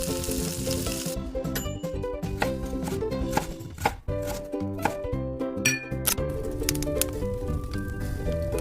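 Peeled, halved pointed gourd frying in hot mustard oil in a kadai over medium heat, giving a steady close sizzle with crackling pops and a tonal musical backdrop.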